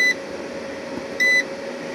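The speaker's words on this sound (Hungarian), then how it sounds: "de szépen csipog egyébként" A 300 W grid-tie solar inverter gives two short, clean electronic beeps about a second apart, each loud and piercing over a low steady hum of the running equipment.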